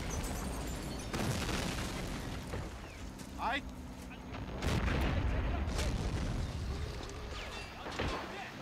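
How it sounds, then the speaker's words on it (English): An artillery shell blast in Men of War: Assault Squad, a heavy boom rumbling amid battlefield noise and scattered impacts, with a player talking over the mix. "GPF got a superb arty shot on me"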